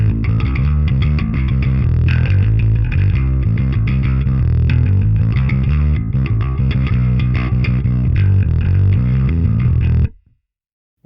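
Bass guitar played through a Line 6 POD Express bass pedal's overdrive effect, a continuous gritty riff of steady notes that runs loud and unbroken for about ten seconds before cutting off abruptly.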